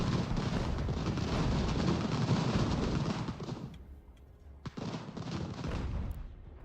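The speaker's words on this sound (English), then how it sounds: "And the mortars are firing." Mortars fire in Ultimate General: American Revolution, a dense rumble of overlapping booms and crackling shots that fades briefly before a sharp report and a renewed roll of fire.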